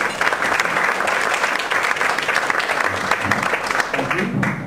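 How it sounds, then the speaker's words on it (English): An audience welcomes speaker Tom Crawford with a sustained round of applause, a full, even roar of clapping from a large crowd that stays loud and steady for the whole span. "let's give him a round of applause"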